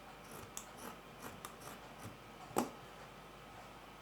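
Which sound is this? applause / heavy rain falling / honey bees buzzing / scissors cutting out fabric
scissors cutting out fabric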